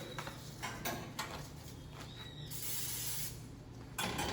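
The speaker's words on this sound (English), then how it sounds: "And then we also want to use some nonstick." Nonstick cooking spray hisses onto a pan for arepas in a sustained close spray lasting over a second, followed by a brief clatter, with no talking.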